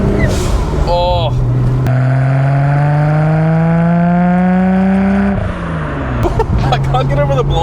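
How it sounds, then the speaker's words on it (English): Nissan R32 GT-R, a twin-turbo car over 30 years old, revving hard from the cabin, its engine note climbing steadily before a sharp drop and a burst of blow-off valve release, then building again, loud and close. "I can't get over the blow valves. It's pretty loud, eh? It's actually so loud."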